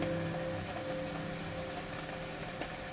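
Rain sounds played through the speakers of a 2025 Kia K4: soft, steady rainfall hiss with scattered droplet taps, fairly quiet and continuous, with a faint low hum underneath.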